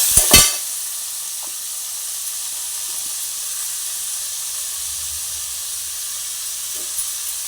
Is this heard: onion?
yes